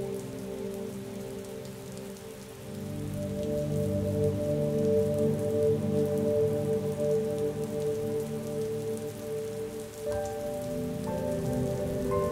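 Steady rain falls continuously, a soft even patter and hiss over a low sustained tonal drone, with a slight shift in texture near the end.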